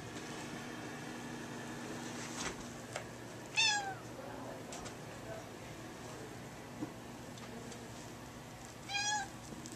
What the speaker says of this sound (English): those are my mother's cats